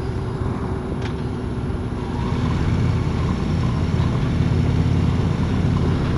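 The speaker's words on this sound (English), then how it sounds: "this Road King has a great sound to it" A 2016 Harley-Davidson Road King motorcycle's engine drones steadily while riding, a low, continuous rumble mixed with wind noise that swells slightly partway through, with no talking.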